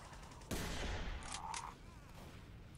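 Sniper rifle shot in Team Fortress 2: a single sharp, loud crack followed by a ringing, echoing tail and faint background ambience, no talk.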